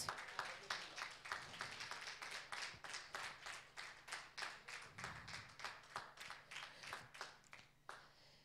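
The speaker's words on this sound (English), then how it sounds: "Give God a hand clap of praise" A church congregation claps in praise, a rhythmic run of roughly steady, sharp hand claps that starts strong and then fades, quiet and somewhat distant throughout.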